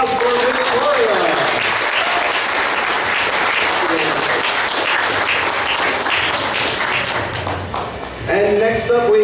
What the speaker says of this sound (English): round of applause for Victoria